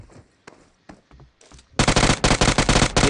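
Rapid, loud bursts of automatic gunfire in a video game erupt after a stretch of softer clicks and thuds, then continue in dense, closely spaced volleys until the end.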